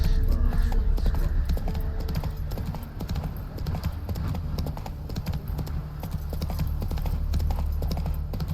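Geralt's horse Roach galloping in The Witcher 3: Wild Hunt, a dense, rapid drumming of hooves that runs continuously and loudly over game ambience.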